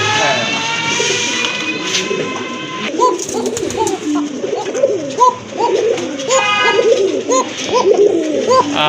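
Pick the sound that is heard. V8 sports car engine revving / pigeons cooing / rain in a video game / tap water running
pigeons cooing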